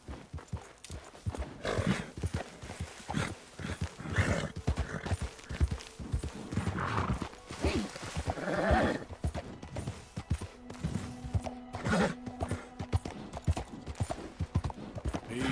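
Horse hooves clip-clopping at speed in the Western video game Red Dead Redemption 2, a steady rapid rhythm with occasional whinnies and gear noise, while someone talks to the horse now and then.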